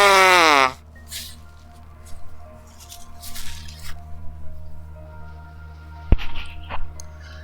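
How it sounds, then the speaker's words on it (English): Someone with a stuffy nose blows it straight into a microphone, one loud, close honking burst at the start, followed by quiet rustling and small handling noises. "I'm gonna blow my nose right into the fucking microphone."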